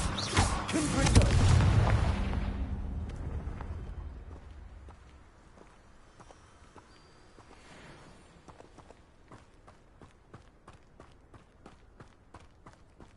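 Confringo blasting spell fired in the Hogwarts Legacy video game: a loud booming explosion in the first three seconds that fades into a low rumble, followed by a long run of sharp, regular footstep-like clicks.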